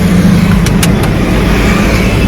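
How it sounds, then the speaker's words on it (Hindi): Heard from inside on a road trip from Hyderabad to Rehmatabad, a car runs with a loud steady low engine drone and road rumble, with a few brief clicks early on. "गाड़ी स्टार्ट हो गई और हम आगे बढ़ते गए"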